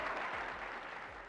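Audience applause at a magic show, a steady, moderately loud patter of many hands clapping that fades slightly toward the end.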